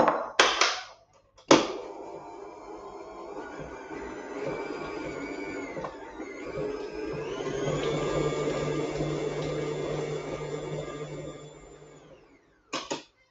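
An electric mixer beats vanilla cupcake batter with egg and dry ingredients, a continuous whirring drone that shifts pitch partway through, bracketed by short knocks and clicks at the start and end.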